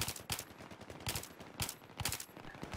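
Bursts of automatic gunfire in the Battlefield 3 video game, several short sharp volleys spaced unevenly over a few seconds, fairly quiet overall and with no speech.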